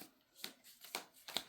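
Divination cards riffled in a deck, with three quick crisp shuffling bursts spaced about half a second apart, close and fairly quiet with no talking.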